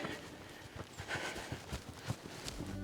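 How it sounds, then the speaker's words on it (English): Hooves of a 12-year-old mare clip-clop at a trot during training, a quick, even rhythm of moderately close beats with no talking. "that's a little bit of the trot I'm looking for"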